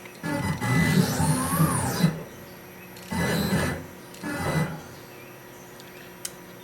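A Mach3-controlled CNC machine moving between positions: a rising and falling stepper whine in one longer burst, then two shorter motion bursts after a pause, fairly close, with no talk.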